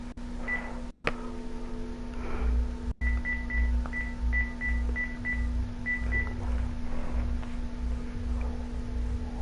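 A telephone keypad sends a run of short, evenly spaced dialing tones while calling a police department, over a steady hum and low background rumble.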